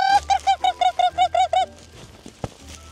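Geese honk in a rapid series of about nine loud, close calls, then fall quiet, leaving faint background noise and a single sharp knock.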